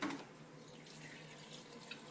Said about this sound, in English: notice now I'm using filtered water